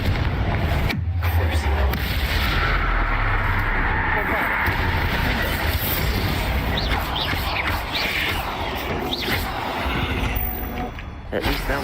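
A Confringo spell bursts in the Hogwarts Legacy video game as a sudden booming blast inside a tomb, followed by rumbling game sound effects with voices over them.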